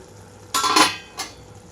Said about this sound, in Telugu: మూత తీస్తున్నానండి.